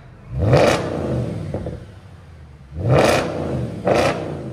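A 2011 Audi S5 4.2-liter V8 with a muffler delete revs hard three times, each loud raspy blip flaring up and settling back into a rough idle close by.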